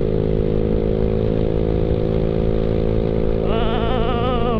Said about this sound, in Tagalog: Pero kayang-kaya ng ating Yamaha Mio Sport yan. Ganong kalakas ang ating motor.